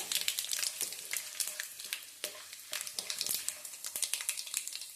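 Tempering seeds spitting and sizzling in hot oil, a steady crackling fry punctuated by sharp pops and spatters, fairly quiet and close, with no talking.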